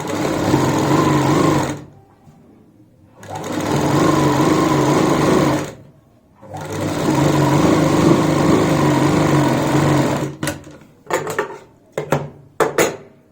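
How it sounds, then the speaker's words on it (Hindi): Sewing machine stitching the edge of a sleeve, three sustained bursts of fast mechanical whirring separated by short pauses, then a few brief stop-start runs, loud and close with no talking. "यहाँ पे किनारे की आपने सिलाई लगानी है।"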